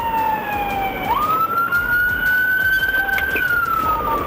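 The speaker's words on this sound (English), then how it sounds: "flee when lights and sirens were activated." A police car siren during a pursuit on a Florida highway wails loud and close, a sustained tone that dips, then sweeps upward and holds high over road noise.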